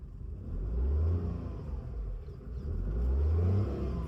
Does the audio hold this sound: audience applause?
no